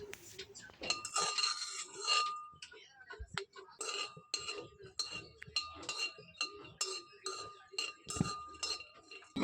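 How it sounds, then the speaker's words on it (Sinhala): Peanuts roast in a pan for Sri Lankan dodol, a metal utensil clinking and scraping against the pan in a steady, close rhythm with a faint voice at times. "දොදල් වලට දාන්න රට කජු ටික බැද ගන්නවා මම දැන්."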